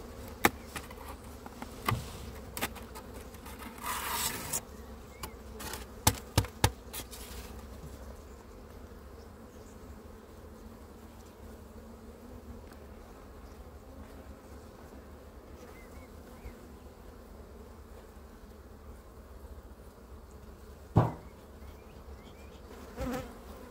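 Honeybees drone steadily around an opened beehive during colony splitting, a continuous low buzz with occasional louder bees passing close, no speech over it.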